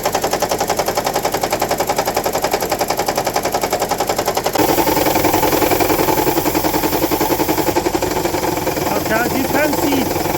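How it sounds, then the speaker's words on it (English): A Toyota Estima Hybrid's 2AZ-FXE engine idles roughly with a multi-cylinder misfire, a fast steady rattling pulse that shifts tone partway through, close and loud throughout. "as you can see, the engine is heavily shaking."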